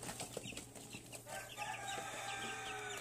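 Chickens cluck and chatter steadily inside a backyard coop in Nepal, a mix of hens and young chicks, with a rooster-like call rising near the end; close and continuous, no talking.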